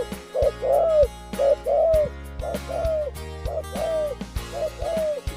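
Repeated deep, soft coos from a dove, rising and falling in short phrases with brief pauses, close and clear over a low steady background hum.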